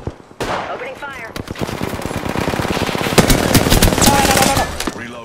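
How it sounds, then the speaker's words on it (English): Rapid automatic gunfire from the Apex Legends video game, loud and dense, with a sustained rattle of shots running almost continuously for several seconds after a brief quiet start. "Taking fire. Opening fire."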